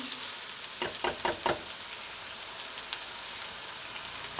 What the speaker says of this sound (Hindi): मसाले थोड़े फ्राई हो रहे हैं और बड़ी अच्छी सी खुशबू आ रही है